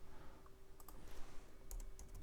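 Faint clicks of computer keyboard keys being pressed, a few quick taps in two small clusters over a quiet room hum.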